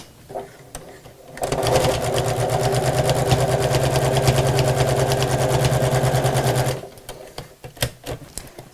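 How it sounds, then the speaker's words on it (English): A sewing machine runs steadily for about five seconds while stitching a messenger bag, a fast even mechanical whir that starts and stops cleanly, with quieter handling sounds before and after. "So just keep sewing and back down the final side."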